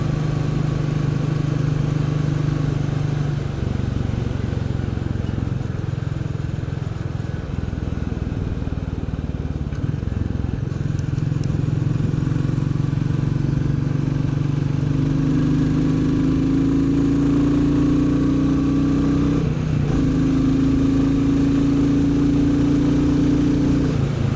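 A Royal Enfield Bullet 350 engine drones loudly and steadily while riding on a Sunday morning, with a low thumping note, shifts in pitch as the revs change, and constant wind rush.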